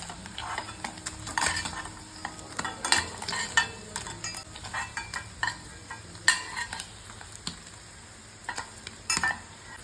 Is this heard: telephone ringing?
no